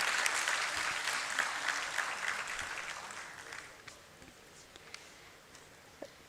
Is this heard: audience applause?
yes